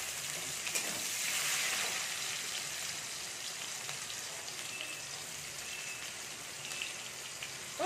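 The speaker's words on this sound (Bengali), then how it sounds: "পেঁয়াজ কুচিটাকে আমি ভালো করে ভেজে নিচ্ছি" Chopped onions fry in hot oil with a continuous bright sizzle and scattered crackles. The sound is even and fairly close, and it swells slightly near the start.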